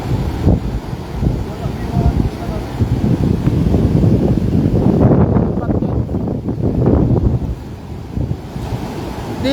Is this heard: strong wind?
yes